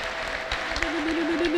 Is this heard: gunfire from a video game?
no